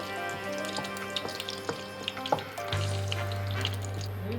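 Whole cinnamon, cloves, small cardamom and peppercorns sizzle in hot oil at the start of a cauliflower and green pea curry, a soft steady crackle up close with a few faint pops over a low kitchen hum.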